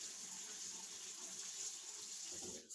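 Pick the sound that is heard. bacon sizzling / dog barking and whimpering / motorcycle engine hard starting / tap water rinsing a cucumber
tap water rinsing a cucumber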